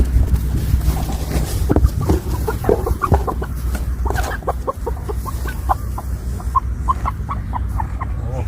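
Thai fighting chickens on a farm cluck repeatedly in short bursts over a loud, low rumbling background, several birds close by.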